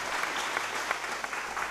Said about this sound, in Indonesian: tepuk tangan untuk Mas Abrang